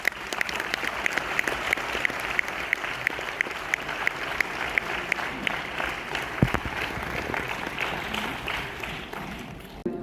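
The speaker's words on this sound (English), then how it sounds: "Can we have a huge round of applause?" Sustained applause from an audience fills a New Delhi auditorium at a foundation day ceremony, dense even clapping with a faint crowd murmur throughout.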